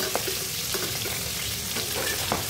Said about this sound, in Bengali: লাল লাল করে মাছগুলো ভেজে নিচ্ছি।